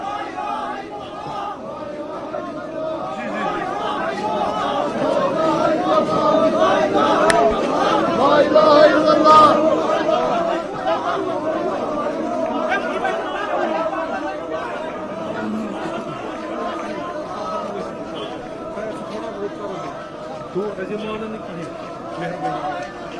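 A large crowd of mourners in a funeral procession toward a graveyard, a dense continuous murmur of many voices with raised calls, close and steady, with a reporter speaking over it.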